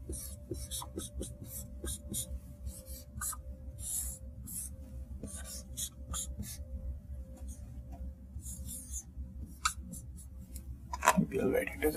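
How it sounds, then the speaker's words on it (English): Marker or pen scratching out an equation by hand during a physics lecture: close, irregular strokes and taps over a low room hum, with a brief clatter near the end. "let me write it here"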